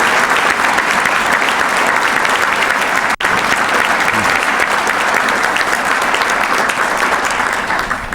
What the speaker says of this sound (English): Please give them a round of applause for being here.